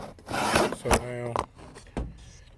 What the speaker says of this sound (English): get the filter back in here. Work it in over top of that little hump that's there.